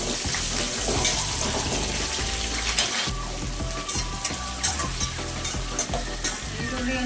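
Onions and chana dal fry in hot oil in a pan for a vangibath gojju, giving a loud, steady sizzle broken by occasional scraping and stirring.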